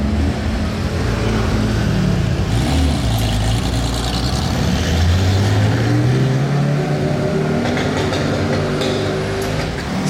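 Porsche sports car passing close by with a rising and falling engine note over steady traffic rumble, loud throughout.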